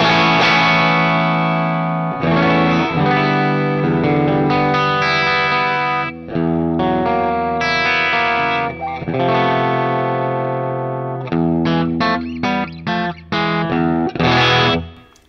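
Electric guitar played through the Line 6 Helix Interstate Zed amp model, a loud, continuous run of distorted chords and riffs with effects-laden sustain and short breaks between phrases, heard alone without talking.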